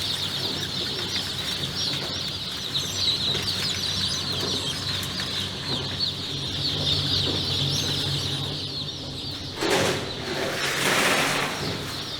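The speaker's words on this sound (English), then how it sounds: "He moves the hatched chicks on the machine while separating them from the eggshells." Newly hatched chicks on a hatchery machine at a Japanese farm, with steady dense peeping and chirping over a constant mechanical hum and clatter, growing louder in bursts near the end.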